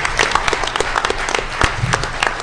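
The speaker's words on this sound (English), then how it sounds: "All right, everyone, round of applause." Loud, close applause from a conference audience at the end of a DEF CON panel, with brisk overlapping claps sustained throughout.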